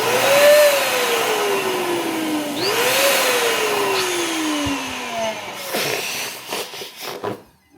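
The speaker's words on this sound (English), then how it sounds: "And I'm just going to take a balloon and blow it up. I have my little blower here." A small electric balloon blower inflates a balloon with a steady loud whine whose pitch rises and falls twice, close by, then gives way to rubbery squeaks and handling near the end.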